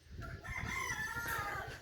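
Caged chickens crow and cluck in a steady, fairly faint stream of calls with a rooster-like crow, no talking over them.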